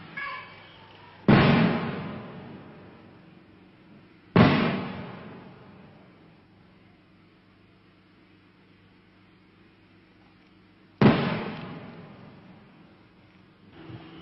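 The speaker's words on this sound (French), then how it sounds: "On entend un coup de feu là." Three heavy booms of distant 105 mm artillery fire, each a sharp blast trailing off in a long rolling echo, spaced several seconds apart.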